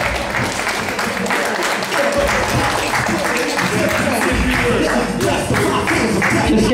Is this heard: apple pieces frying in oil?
no